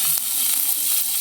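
Green chilies drop into hot white cooking oil with panch phoron spices, giving a loud, even, close-up sizzle with faint stirring ticks throughout.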